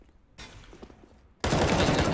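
Gunfire in the video game Counter-Strike: faint scattered shots, then a sudden loud burst of rapid fire at close range for the final stretch, with no talk.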